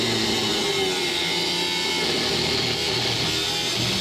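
A power tool cutting thin metal during fabrication work on an RB25DET-powered 240SX, a loud, continuous, close-up grinding whine that holds steady throughout with no talk.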